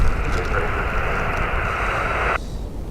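Air Canada AC801 airliner taking off from Dublin Airport's runway 28 right, its engines a loud, steady broadband roar over strong gusting wind that cuts off abruptly near the end.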